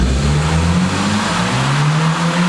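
A Mercedes W140 or W208 CLK revs hard while spinning one wheel, a loud close engine drone with rising and falling pitch over tyre noise, continuous throughout.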